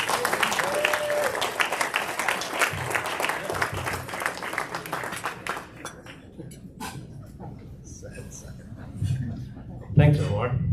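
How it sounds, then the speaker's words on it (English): Applause from the audience at an East Chapel Hill Rotary club meeting: dense, steady clapping that fills the room, with some clinking of dishes and cutlery and crowd murmur, thinning out toward the end before a louder burst. "Big round of applause, please."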